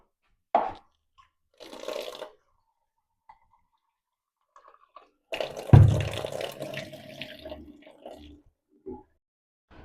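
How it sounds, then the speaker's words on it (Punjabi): Onions and other ingredients being washed under a running tap, heard as intermittent splashes and gushes of water, one burst louder and longer than the rest, with quiet gaps between them. "ਪਹਿਲਾਂ ਆਪਾਂ ਧੋ ਲੈਣੇ ਇਹਨਾਂ ਨੂੰ ਪਿਆਜ਼"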